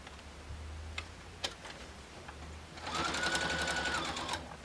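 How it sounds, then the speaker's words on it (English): A domestic sewing machine stitches quilt binding on a zig-zag quilt edge, with a few soft clicks before a short, close whirring run of stitches near the end. "And then just sew."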